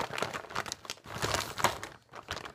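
Plastic packaging around a plush dinosaur toy crinkles and tears as it is opened up close, in a continuous run of crackling rustles with small bursts and brief pauses.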